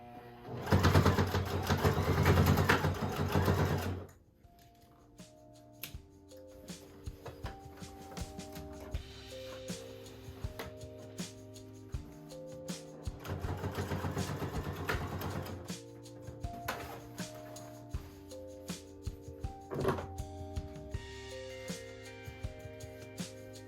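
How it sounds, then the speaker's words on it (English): A sewing machine stitches denim apron straps made from thrifted jeans, opening with a loud, fast whirring burst, then quieter intermittent runs and clicks, with another sustained stretch of stitching midway. "I think for these straps, I'm just going to sew them at the corners here so that I can wrap it around and tie it."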